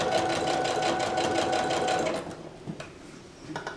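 A sewing machine stitches binding onto a crochet blanket, a fast, even mechanical whir with rhythmic needle pulses for about two seconds before it slows and stops, leaving a few soft handling clicks.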